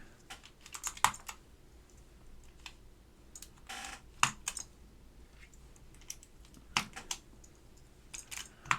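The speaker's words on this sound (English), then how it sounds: "we're gonna get the keycaps on first" Keycaps pressed one by one onto a Northgate Omnikey 101-N keyboard with Alps SKCM White switches, giving sparse, close plastic clicks and snaps at irregular intervals over a quiet background.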